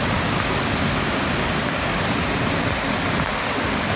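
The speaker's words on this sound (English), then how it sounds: "See that waterfall?" A waterfall roars as steady, dense broadband rushing water, loud and constant throughout, heard during an off-road road trip with no talking.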